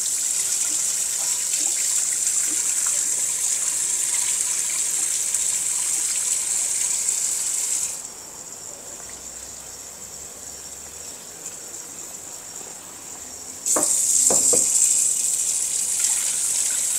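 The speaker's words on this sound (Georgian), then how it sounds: "საკმარისია წყალი ჩავასხათ" Water is poured steadily into a kazan for Uzbek plov, a continuous gushing stream that pauses briefly and then resumes louder near the end, with no talking.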